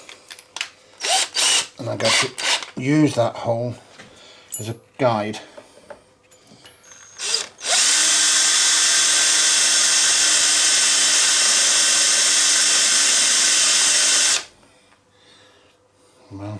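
Magnetic drill boring a hole in a Suzuki GSXR1100 motorcycle frame, a loud, steady whine that runs for several seconds and then cuts off, after someone speaks briefly over quieter tool clatter.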